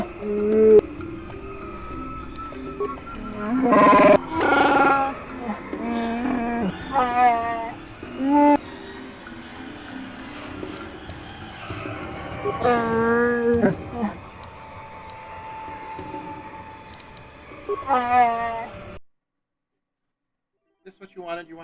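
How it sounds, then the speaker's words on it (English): A pet cat meows repeatedly at close range, a series of short and drawn-out calls spread over the stretch, while a person talks softly at times and the cat moves around near the microphone. "You're a good cat."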